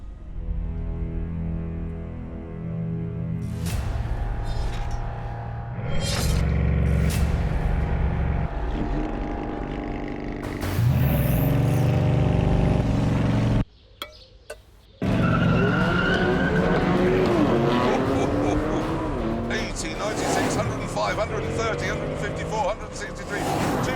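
A Bugatti Chiron in a drag race, its engine and tires skidding loudly with rising revs, sharp screeches and a short gap of near silence before the roar returns.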